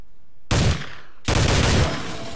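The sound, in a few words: M4 rifle gunfire in video game Soldier of Fortune II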